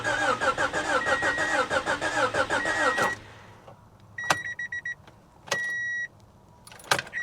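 A heavily vandalized car's engine cranks with a rapid, rhythmic starter whir for about three seconds and then stops, followed by a few brief electronic chimes and clicks from the dash in a quiet space.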